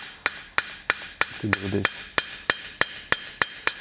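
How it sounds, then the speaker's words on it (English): Light hammer blows ring out in blacksmith forging on an 18th-19th century style toaster, a dozen evenly spaced sharp metallic strikes with bright ringing overtones, and a brief voice speaks under them partway through. "I'm just using kind of light hammer strikes"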